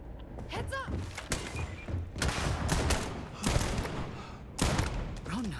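Gunfire in the video game Starfield crackles in several separate bursts of sharp shots and thuds, close and loud, with spoken lines in between.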